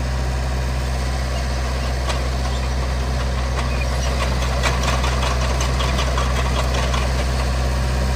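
A 2002 Vermeer V5750 trencher's diesel engine idles with a steady low rumble and a constant hum, plus a few faint clicks and taps above it, with no one talking.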